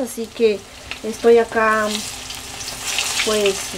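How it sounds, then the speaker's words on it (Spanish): Plantains fry in a pan, a steady sizzle with occasional bursts, heard under a person speaking Spanish. "friendo estos plátanos"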